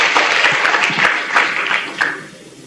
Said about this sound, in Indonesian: Beri tepuk tangan untuk mereka berdua.